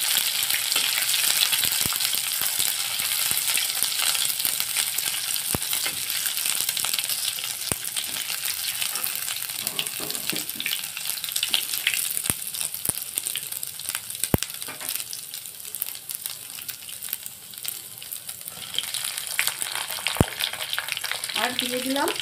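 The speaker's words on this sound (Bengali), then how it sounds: "দিয়ে আমি একটু ভাজা ভাজা করে নেব" Ginger paste and split dried red chillies frying in a pan for a mixed vegetable curry: a steady, close hissing sizzle throughout, with occasional light clicks of stirring.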